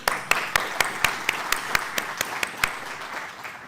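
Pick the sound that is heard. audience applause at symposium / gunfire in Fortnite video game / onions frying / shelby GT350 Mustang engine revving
audience applause at symposium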